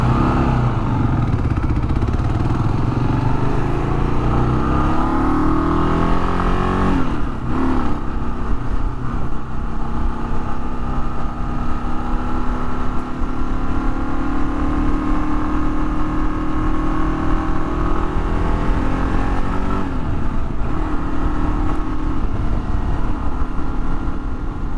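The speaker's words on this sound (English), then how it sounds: "this is a KLR 650 Kawasaki" Kawasaki KLR 650 motorcycle engine at a demo day near Wilmington, Ohio, a steady loud engine drone with rising and falling revs and gear shifts, continuous throughout with no talk.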